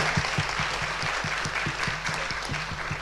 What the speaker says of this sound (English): please join me in a round of applause to thank our exceptional panelists